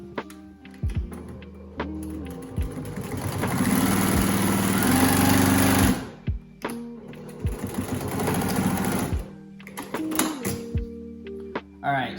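Sewing machine rigged with field tan thread stitches a scrap of canvas in two long, close, steady whirring runs, with brief clunks and handling sounds around them.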